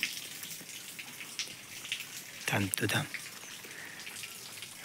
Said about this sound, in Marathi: असं केलं ना पाणी खाली पडते.